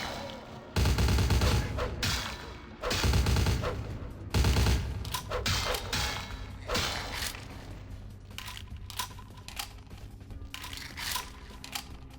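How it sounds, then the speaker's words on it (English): Rapid bursts of gunfire in the video game Vampire the Masquerade: Bloodlines, several loud volleys in the first half followed by quieter scattered shots and clatter. "Where's the guy shooting from?"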